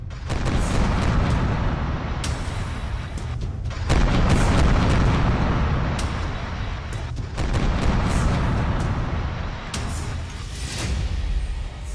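Wartime explosions and blasts sound as heavy, rumbling booms that swell and overlap, loud and continuous, with a few abrupt cuts between bursts.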